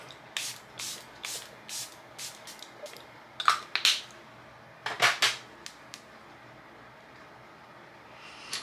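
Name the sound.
setting spray being sprayed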